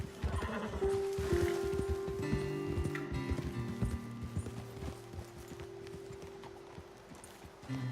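Horses in the Red Dead Redemption 2 video game, heard as a steady run of hoof clip-clops with an occasional whinny, close and continuous under a sustained musical drone and other game ambience.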